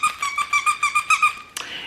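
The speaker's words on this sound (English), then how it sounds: "and then it has a disc squeaker inside." A disc squeaker inside a plush Mystery Machine dog toy squeaks about eight times in a quick, steady rhythm, close and bright, then ends in a short crinkly rustle.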